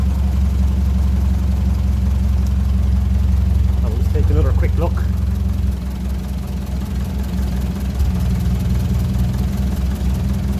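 A 1957 Ferguson 35 tractor running on TVO idles with a steady low rumble and mechanical clatter, close and continuous, while someone speaks over it.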